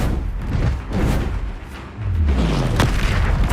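Confringo blasting spell going off in the video game Hogwarts Legacy: heavy booming explosions that roll and thud continuously, loud and close, with a deep rumble and a sharper crack near the end.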